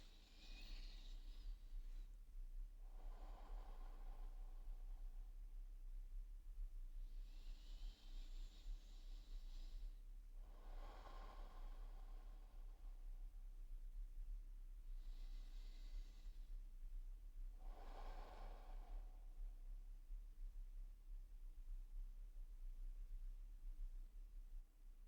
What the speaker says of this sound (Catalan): Fem 3 respiracions, inhalant tot l'aire pel nas i exhalant tot l'aire possible per la boca